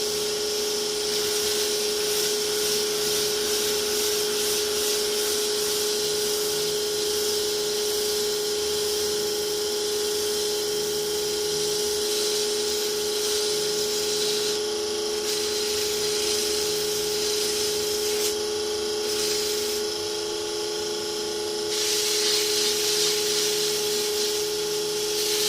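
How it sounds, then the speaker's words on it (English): Continuous abrasive sanding with a coarse sanding block against spinning wood, a steady hiss over the constant hum of a lathe motor running the whole time. "We're going to use this really coarse side of the sanding block."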